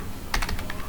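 A computer keyboard clatters through a quick burst of five or six keystrokes, close and crisp, followed by one more tap, with no talking.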